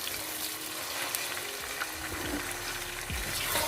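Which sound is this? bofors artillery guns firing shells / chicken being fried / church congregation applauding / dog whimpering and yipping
chicken being fried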